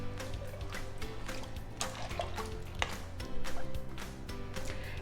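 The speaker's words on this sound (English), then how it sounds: "Stir and start it cooking" Black beans and rice with diced green chilies are stirred in an Instant Pot, giving soft wet scraping and sloshing sounds in irregular strokes, close and fairly quiet.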